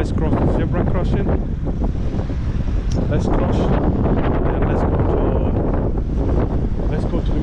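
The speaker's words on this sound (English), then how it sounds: "It's quite windy, guys." Strong wind buffets the microphone on a seaside promenade in Blackpool, a constant heavy rumbling roar with gusty fluctuations throughout, no other sounds standing out.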